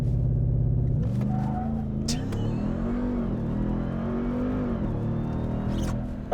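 A RAM 1500 TRX pickup truck with a 702-horsepower supercharged engine launches hard under launch control, a deep roar rising in pitch through the gears, loud and close, with a faint voice in the background.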